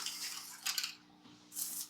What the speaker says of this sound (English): Here's little box filter bubbling on up on them.